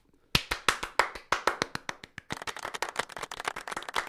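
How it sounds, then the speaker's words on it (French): Applause for Nick at a wrestling podcast recording, a small group clapping in quick, sharp, irregular claps that thicken into denser, quieter clapping after a short pause; no talking. "Est-ce qu'on peut applaudir Nick,"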